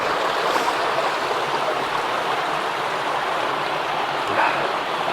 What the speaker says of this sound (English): And then it runs off down this like little weir and then continues down eventually to the River Tyne near Wylam.